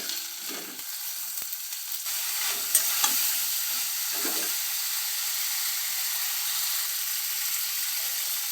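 A steady hiss of frying fills the pan as cumin powder and salt are stirred in for a chhanar dalna, with a few soft scraping strokes early on and no voices.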